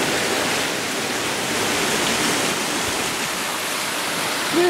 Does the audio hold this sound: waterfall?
yes